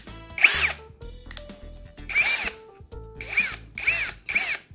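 An INGCO brushless cordless impact drill runs in several short, loud, whirring bursts with a rattling impact edge, separated by brief pauses and quieter mechanical clicks.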